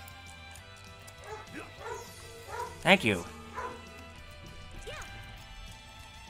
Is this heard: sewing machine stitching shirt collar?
no